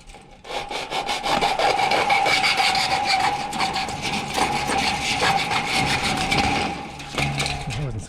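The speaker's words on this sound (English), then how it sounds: "I'm using a really fine tooth hacksaw blade" A fine-tooth hacksaw saws steadily through semi-rigid furnace ducting during RV duct replacement, a loud, continuous rasping rhythm of back-and-forth strokes close to the microphone that eases off near the end.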